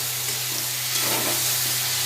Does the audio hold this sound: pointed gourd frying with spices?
yes